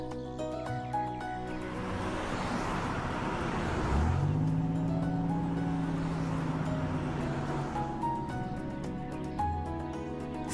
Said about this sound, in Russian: По дороге едет маленький желтый автомобиль с большим прицепом